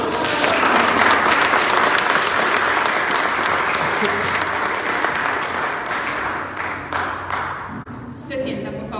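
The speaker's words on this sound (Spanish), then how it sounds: "aplauso al Señor." A church congregation at a Lenten retreat service gives loud, sustained applause that thins slightly near the end, with voices mixed into the clapping.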